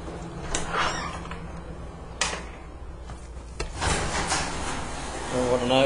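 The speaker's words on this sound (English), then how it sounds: "Okay, we're going to test the garage doors." A garage door is opened and closed during a home inspection in Allen, Texas, giving rumbling slides and a few sharp bangs and clunks, with people talking nearby.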